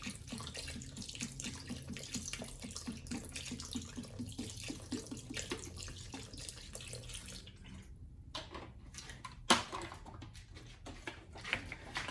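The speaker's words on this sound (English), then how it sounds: "we're gonna hit it with a little bit more water" Water runs steadily from a tap and splashes into a portable washing machine, then stops and gives way to a few faint thumps and clunks.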